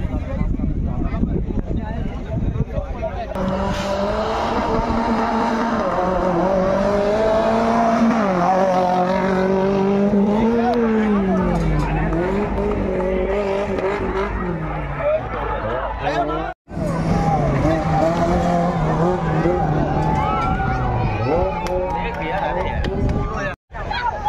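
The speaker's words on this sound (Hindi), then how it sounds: "अंदर गाड़ी आ रही है" An off-road vehicle churns through a mud challenge at Sehore, its engine loud and close, revving continuously with pitch rising and falling, briefly cutting out twice, while a crowd murmurs underneath.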